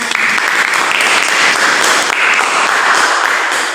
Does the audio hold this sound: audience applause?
yes